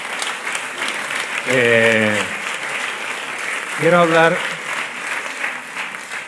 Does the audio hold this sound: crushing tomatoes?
no